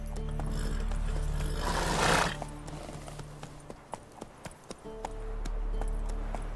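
Roach, Geralt's horse in the video game Witcher 3, gallops and then slows, hooves clip-clopping in a steady rhythm under music and a brief whoosh, with individual hoof strikes growing distinct and fading.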